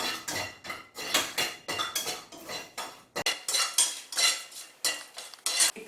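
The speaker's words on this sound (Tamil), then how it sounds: "பட்டை, லவங்கம், 4 ஏலக்காய், இதெல்லாம் நல்ல வாசனை வர வரைக்கும் வறுக்கணும்." Cinnamon, cloves, cardamom and bay leaves are dry roasted in a metal pan for coconut milk biryani, with a spatula clinking and scraping against the pan in close, repeated strokes and no talk.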